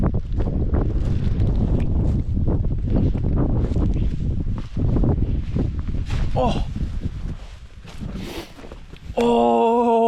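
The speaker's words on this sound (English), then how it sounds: "Oh, I gotta hide from the wind." Strong wind buffets the microphone on an exposed rocky lookout, a loud continuous roar with gusty swells that eases briefly before a tonal sound cuts in at the end.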